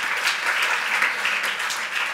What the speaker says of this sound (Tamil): நல்ல கரங்களை தட்டி உற்சாகப்படுத்துங்க